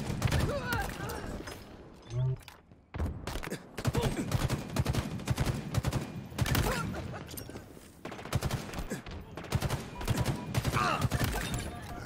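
Green Reaper weapon firing in Halo Infinite, rapid bursts of gunfire repeating across the whole stretch amid game effects, loud and close, with some talk mixed in.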